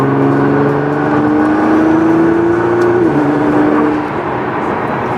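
A Nissan GT-R fitted with an aftermarket turbo blow-off valve, engine revving under light boost in a steady rising whir and drone that drops back near the end, loud and close with no voices.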